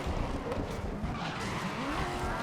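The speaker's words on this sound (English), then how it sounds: "The sounds of the cars, the exhaust spitting and stuff sound incredible" Race cars in the GRID 2019 racing game roar and skid together, a dense, steady wash of engine noise, exhaust and tyre squeal with no clear gaps, loud and close throughout.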